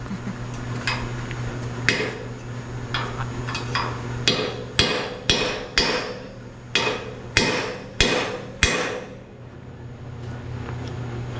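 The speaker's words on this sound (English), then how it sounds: "He's got the big French hammer." A big French hammer strikes metal while a utility trailer is stretched into a car hauler. Scattered blows lead into a steady run of about ten loud, ringing hits, each with a sharp attack and a short decay, over a constant low hum.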